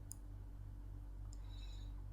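Computer mouse clicks while working in statistics software, two faint, crisp clicks about a second apart over a steady low electrical hum, with no talk.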